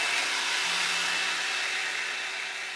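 A CHI Volumizer 4-in-1 blowout brush blasts hot air while drying hair, giving a steady, close, loud whooshing roar that holds even throughout with no talking.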